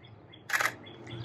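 A quick burst of camera shutter clicks from a single-lens reflex camera during a toy photography shoot of Marvel street art Funko Pops, sharp and close against a quiet room.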